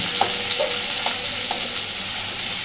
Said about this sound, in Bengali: একটু মিনিট দুই মিনিট আলুর সাথে পেঁয়াজটাকেও নাড়াচাড়া করে ভেজে নেব